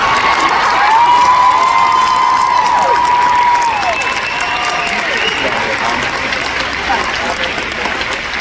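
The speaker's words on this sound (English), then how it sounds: "Round of applause for my mum, hey?" A large event crowd bursts into applause and cheering, loud and dense at first then easing slightly, with whoops and shouts rising above the clapping.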